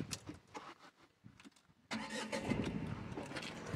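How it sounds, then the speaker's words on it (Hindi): A Tata Altroz three-cylinder car engine cranks and catches, then settles into a steady idle with a clear jump in level, heard close with light cabin noise before the start. "चलिए मैं गाड़ी को ऑन करके आपको इसकी आवाज़"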